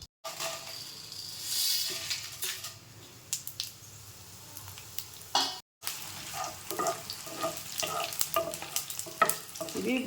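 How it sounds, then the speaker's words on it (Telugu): Dry red chillies, coriander seeds, mustard seeds, fenugreek, cumin and a pinch of asafoetida fry in oil for an okra pickle. They sizzle close by while a spoon stirs in scraping bursts, and one brief cut of silence falls midway. "ఈ ఆయిల్లో ఆ బెండకాయలకు సరిపడినన్ని ఎండుమిర్చి, ధనియాలు, ఆవాలు, మెంతులు, జీలకర్ర, కొంచెం ఇంగువ వేసుకొని ఇవన్నీ దోరగా వేపుకుందాం"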